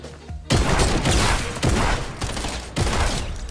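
A new submachine gun fires in bursts in Fortnite Season 9, with loud, rapid rattling volleys separated by brief gaps and no talk over them.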